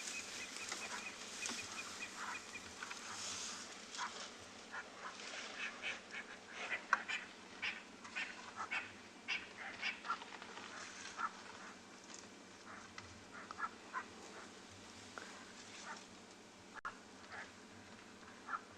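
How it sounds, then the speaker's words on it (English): Harsh, nasal calls of grey go-away birds in a tree on a South African safari repeat from a distance, overlapping in a loose chorus against a quiet outdoor background. "See some grey go-away birds in the tree there. You can hear them."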